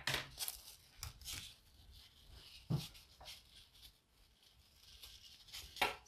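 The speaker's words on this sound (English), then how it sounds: "and then we're just gonna cut it" Scissors snip through craft material for a homemade Christmas table decoration, giving several close, crisp cuts with a crinkling rustle between them over low room noise.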